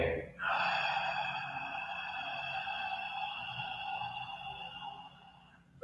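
A long, drawn-out breath during a guided training flow, with a deep airy inhale or exhale sustained for several seconds, close and breathy.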